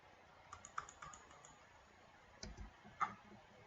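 Computer mouse clicks during work in V-Ray 3D rendering software: a quick run of light, close clicks, then two separate clicks a little later, with no talking.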